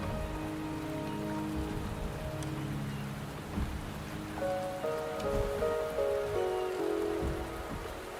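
Steady rain pours in the video game Wuthering Waves, with thunder rumbling low beneath it and tonal notes entering midway, a fairly quiet continuous wash with no speech.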